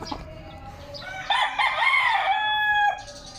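A rooster crows once, a loud drawn-out call rising and then falling, set against low background noise.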